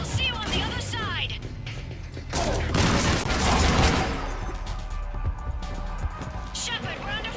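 Gunfire in the video game Mass Effect 3, bursts and booms of a firefight running throughout under radio voices and battle chatter.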